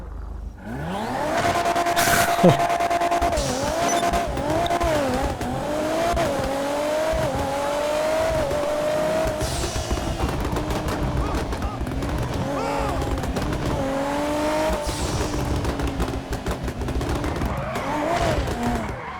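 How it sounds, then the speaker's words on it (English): A Toyota Supra Mk IV with a 2JZ engine in GTA 5 revs hard and loud through repeated rising gear pulls, with tire squeal and bursts of gunfire-like noise over a steady game soundtrack. "How does it sound? Unbelievable. Of course, because nothing can compare to a 2JZ."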